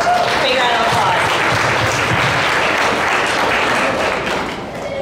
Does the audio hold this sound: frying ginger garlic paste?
no